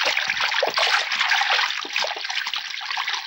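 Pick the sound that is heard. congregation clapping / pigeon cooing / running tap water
running tap water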